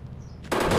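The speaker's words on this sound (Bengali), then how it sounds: "এবার প্রথমে মেশিন গান দিয়ে ফায়ার করব" A machine gun opens fire during a fight with Godzilla in the mobile game Indian Bikes Driving 3D, a burst of dense rapid shots that starts suddenly and loudly after a short quiet stretch.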